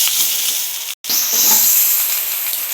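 Eggs seasoned with salt and turmeric frying in a pan, a steady bright hiss of sizzling with a brief silent break near the middle, close and loud with no voices.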